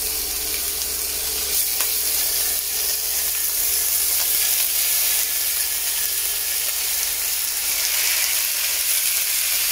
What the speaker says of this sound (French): Et là maintenant, je vais venir mettre les morceaux de viande